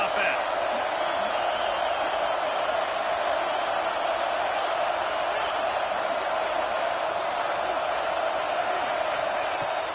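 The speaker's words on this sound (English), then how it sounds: "this crowd is making it miserable on this offense" A stadium crowd roars in the NCAA 26 college football video game, a dense, constant wall of cheering and noise that holds at a loud, even level throughout.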